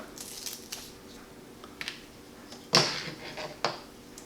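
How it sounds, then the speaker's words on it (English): A dog training e-collar being unwrapped from its packaging, with soft crinkles, scattered light clicks, and one sharper rustle of plastic up close in an otherwise quiet room. "Let's unwrap this collar."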